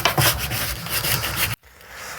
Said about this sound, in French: Donc je vais terminer le ponçage